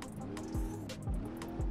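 Ford Mustang tires spinning and squealing in BeamNG.drive, a steady engine drone broken by three repeated rising skid squeals, loud and close, with no talk over it.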